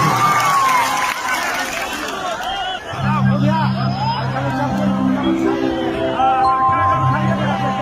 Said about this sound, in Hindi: एक बार ताली बजा के बता दीजिए आप लोग ऐसा बात है कि नहीं?